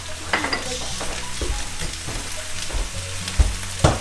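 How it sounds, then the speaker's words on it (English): Zucchini, squash, onions and garlic scapes are stir-fried in a pan with kosher salt and black pepper, a close sizzle broken by several clattering stirs and scrapes against the pan. "Zucchini and squash is going to go pretty fast, so we're just going to stir that all together."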